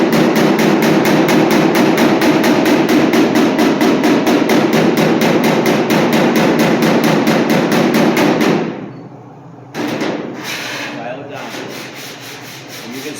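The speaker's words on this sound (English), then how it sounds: "you can go over and hit it, tap it up on low spots" A body-shop hammer taps up low spots on a steel car body panel, making a loud, steady run of rapid metallic strikes for about nine seconds before it stops, followed by a few fainter, scattered taps.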